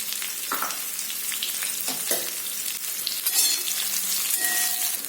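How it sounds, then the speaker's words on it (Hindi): Steady hissing sizzle of sliced onion frying in hot oil, with occasional scraping stirs of a utensil in the pan, close and continuous. "एक बड़ा प्याज को मैंने स्लाइस करके रखी थी, इसे डाल दिया और अच्छी तरह से इसे फ्राई कर लेती हूँ"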